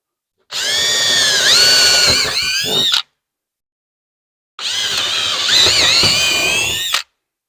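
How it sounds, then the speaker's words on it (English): Power drill boring holes for installing permanent holiday lights, two loud whining bursts of about two and a half seconds each separated by a pause, close and alone. "we have got holes drilled"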